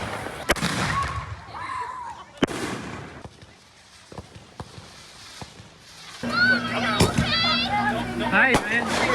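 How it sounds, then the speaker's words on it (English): Fireworks set off by neighbors in a backyard competition, with several sharp bangs and crackles at varying distances. People talk and shout throughout and a dense burst of crackling comes toward the end. "Firework competition out here."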